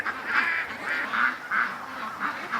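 Ducks at the front of a pen give a rhythmic series of nasal honking quacks, repeated about every half second at close range, with no talking.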